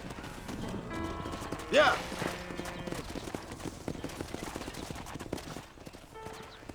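Horse hooves clip-clop steadily in Red Dead Redemption under game music and gunfire, with voices speaking briefly over the hoofbeats.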